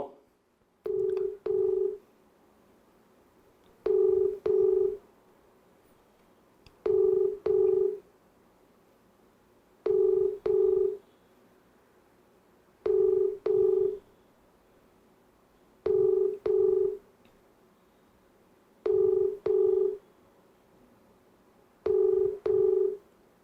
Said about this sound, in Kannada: ನಿಮ್ಮ ಮುಂದೆನೆ ರಿಂಗ್ ಮಾಡಿದ್ದೀನಿ ಎತ್ತಾ ಇಲ್ಲ